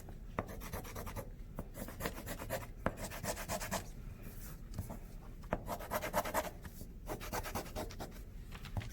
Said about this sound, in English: I'm going to use my marker over here, my trusty marker that I've been using